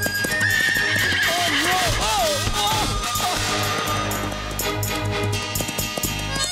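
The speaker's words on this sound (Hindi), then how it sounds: "ये घोड़ा है?" A horse whinnies in several rising and falling calls in a Hindi comedy film scene, over busy hoof clatter, background music and people talking, all loud and continuous.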